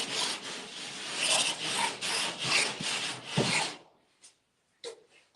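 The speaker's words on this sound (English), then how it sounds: "I call it a scraper. It's a rasp," A hand rasp scrapes steadily across drywall in a large drywall job, a close, rough grinding in several back-and-forth strokes that stops abruptly, followed by a couple of faint clicks.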